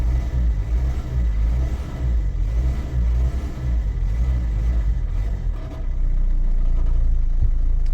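The car nicknamed Dave, which has a handbrake that no longer works, runs its engine while warming up, a steady low rumble that holds close and loud throughout and thickens slightly near the end.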